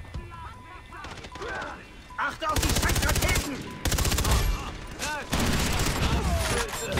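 Loud bursts of automatic gunfire in Far Cry 3 come in several sustained volleys separated by short gaps, close and dense, with game effects around them.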